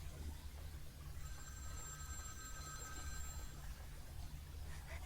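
Telephone ringing in the Vampire: The Masquerade video game, a steady electronic ring with sustained tones held over a low continuous game background hum, moderately loud and without talk.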